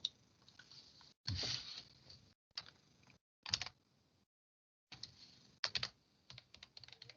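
Keys clatter on a computer keyboard as Ukrainian text is typed, coming in close, quick bursts separated by short pauses, with no talking.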